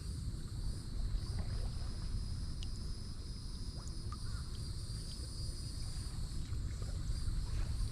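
A kayak paddling along Telegraph Creek in Florida, with soft, steady water and hull wash beneath light wind and faint insect chirping, all continuous and fairly close, with no talking.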